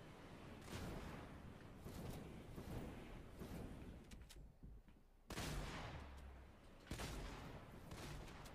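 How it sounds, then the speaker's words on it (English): Gunfire in Fortnite rattles in repeated bursts of shots, some close and sharp, others more distant, with a couple of loud heavy blasts cutting through near the end. "Where are they shooting from?"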